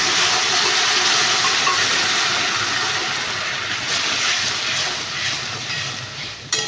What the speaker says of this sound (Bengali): এই যে ছোলার ডালটা এবার ঢেলে দেবো।